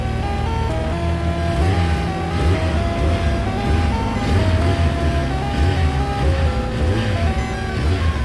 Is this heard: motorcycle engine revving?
yes